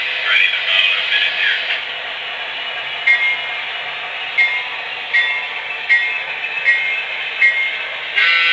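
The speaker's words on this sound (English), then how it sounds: "Got a really loud horn." A steady, loud horn on an HO-scale Broadway Limited Seaboard Air Line Centipede diesel locomotive model blares continuously with a bright tone, accompanied by faint clicking and rolling sounds.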